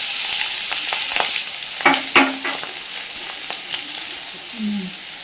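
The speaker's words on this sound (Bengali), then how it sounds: "এইবার তেলের মধ্যে ফোড়নে দিচ্ছে কালো জিরে এবার দিয়ে দিচ্ছে টমেটো আর সেরা কাঁচা লঙ্কা" Tomatoes and green chillies fry with nigella seeds in oil left from frying rohu fish, giving a steady bright sizzle broken by a few sharp clatters of a spatula against the pan.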